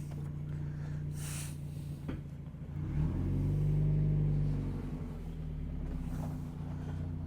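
A Mazda NA Miata on its first drive with new EBC brakes, its engine humming from inside the cabin and rising into a brief rev before settling to a steady road rumble.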